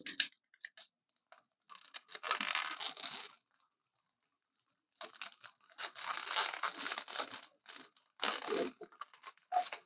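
Protective film is peeled off an xTool M1 laser cutter in close, crackly bursts of crinkling and tearing. The bursts are separated by short silent gaps, with no talking.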